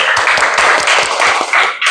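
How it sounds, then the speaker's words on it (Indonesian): A class of students claps for a classmate, giving close, quick and fairly even claps in a steady rhythm over a couple of seconds. "Tepuk tangan untuk Krisna."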